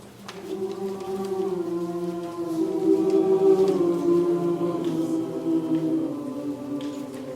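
A choir of high school singers holds sustained harmonized tones that ring and echo through a large hall, the sound swelling gradually and lingering with a rich reverberant tail.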